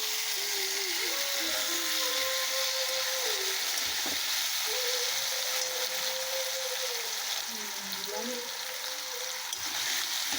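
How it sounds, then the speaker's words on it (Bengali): Cumin and radhuni seeds sizzle in hot oil in a home kitchen, a steady bright hiss running throughout while someone talks over it. "তেলটা গরম হয়ে গেছে, তেলে জিরে আর রাঁধুনি ফোড়ন দিয়েছে"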